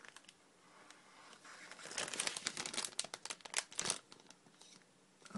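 A package is cut open with a scalpel, producing crinkling and tearing of plastic and card in a cluster of quick, close rustles that build in the middle and trail off.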